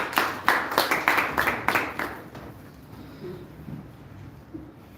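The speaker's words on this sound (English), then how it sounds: "Let's give him a big round of applause" A burst of clapping from a group of course participants at a presentation rises sharply, then quickly fades away to quiet room noise.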